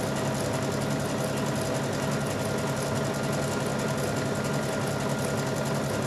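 A sewing machine fitted with a winged needle runs steadily, sewing a flower or star stitch with a constant close mechanical whir and rapid ticking throughout.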